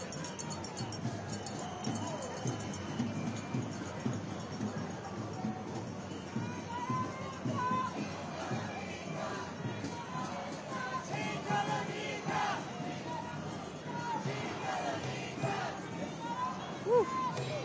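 A large crowd at a nationwide "No Kings" street protest against Trump fills the air with a steady, dense hubbub of many voices, with scattered shouts rising over the continuous babble.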